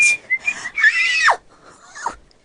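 A whistle sound effect in a Winnie-the-Pooh audiobook: two or three close, loud rising-and-falling whistle calls, the last ones sliding sharply down in pitch, with no talk over them.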